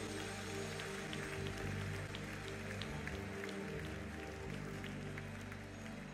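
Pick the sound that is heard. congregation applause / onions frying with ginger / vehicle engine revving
congregation applause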